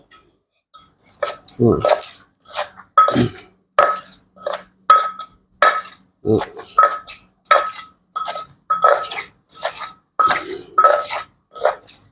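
Beans pounded in a mortar for a breakfast dish, with steady, close, repeated strikes and clinks in a regular rhythm of about two per second, with no talking.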